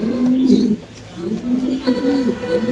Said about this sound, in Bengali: এখানে আছে কালো মুন্ডির একটা নর কবুতর। যাদের সিঙ্গেল নন লাগবে আমরা নরের ডাকও দেখাই দিলাম